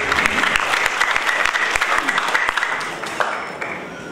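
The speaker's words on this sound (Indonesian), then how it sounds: "Tepuk tangan dulu." Loud applause from an audience at a professorship inauguration ceremony, dense and continuous clapping that holds steady before slowly thinning toward the end.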